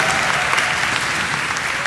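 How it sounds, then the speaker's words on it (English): A conference audience applauds loudly, a dense and continuous wash of clapping filling the room with no single voice standing out. "everybody starts to go wild and claps and whoops and stamps"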